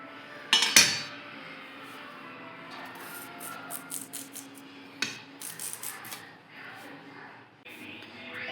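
A potato being cut in a home kitchen before cooking a fish curry: a few sharp knife clacks and clinks against a board or plate, close and scattered, amid quiet room tone and some speech.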